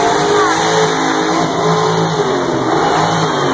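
A 1964 Pontiac GTO at a church car show, its engine held at a loud, steady high rev for several seconds, close by with crowd noise underneath.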